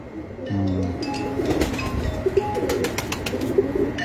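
Pigeons, including a golden female, coo on a rooftop loft: low repeated coos with a few sharp clinks and chirps, close by over a steady hum, with some faint voices.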